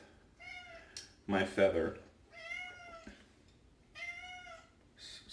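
A house cat meows repeatedly at close range, with several drawn-out, whiny meows spaced a second or so apart, while a person speaks briefly over them.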